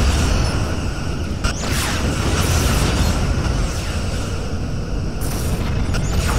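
A Klingon ship blows up in the Star Trek Legacy space combat game, a loud, sustained booming blast that rumbles steadily for several seconds with sharper bursts layered on top.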